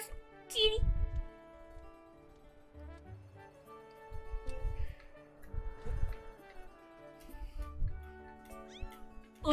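Several short cat meows sound in the video game Zelda Skyward Sword, set among low game music and background noises.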